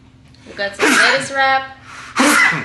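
A person sneezes loudly and close up during a sushi meal, and speech comes before and after it.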